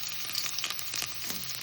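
Garlic sizzling in hot cooking oil for a tinola of native chicken, a bright, close, steady crackling fry lasting a brief moment with no voices.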